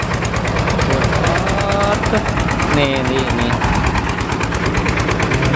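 A four-wheel-drive farm tractor engine runs loud and steady, with a rhythmic, chugging pulse throughout, while someone talks over it.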